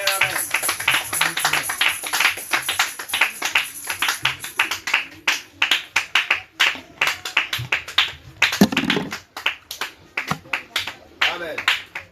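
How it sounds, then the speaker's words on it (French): A church congregation claps rhythmically to acclaim the Lord, with sharp repeated claps running steadily under loud preaching and voices throughout. "On acclame le Seigneur."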